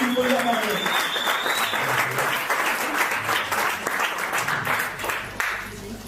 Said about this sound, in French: Vous pouvez l'applaudir très fort aussi.